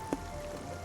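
Steady rain falls throughout a scene in the video game Spiritfarer, a soft continuous patter with one brief louder drop near the start, no talking over it.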